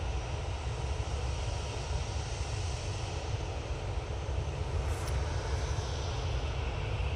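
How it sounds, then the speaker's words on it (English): An airliner arriving from Belfast touches down, a continuous low engine rumble and wind-like roar at steady level, fairly distant, with no talking. "Decent touchdown there from that flight from Belfast."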